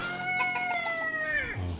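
A rooster crows once in a long drawn-out call that falls at the end, with hens clucking around it, close and clear on a farm in Baras, Rizal.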